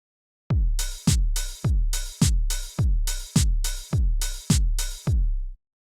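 A programmed drum beat from an MPC sampler plays alone: nine evenly spaced, loud hits, each a heavy booming kick with a long decaying low tail and a bright crisp top, in a steady rhythm.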